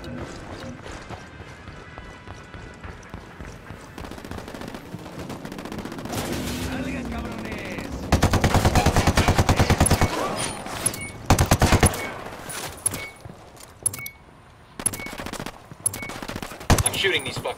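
Heavy gunfire in Ghost Recon Wildlands during a fight alongside rebel reinforcements: dense, loud bursts of automatic fire with single shots, peaking in sustained volleys and sharp clustered bursts against a steady in-game background.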